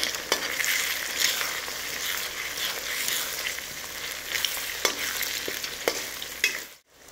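Egg fried rice seasoned with salt is tossed and stirred in a hot pan, a dense, even sizzle with a spatula scraping through it in rhythmic strokes, close up and ending abruptly.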